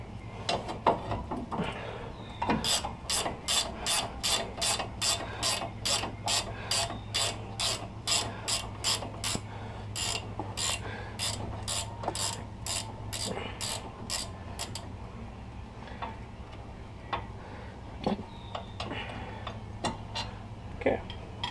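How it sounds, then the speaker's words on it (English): A ratchet wrench loosening bolts on a GM truck during an upper ball joint job, a rapid run of sharp clicking strokes in bursts lasting about twelve seconds, then scattered single clicks over a low steady hum. "I'm using a ratchet wrench."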